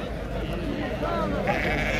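Sheep bleat at a weekly livestock market in El Hajeb ahead of Eid, wavering calls rising over a dense crowd murmur with someone speaking throughout.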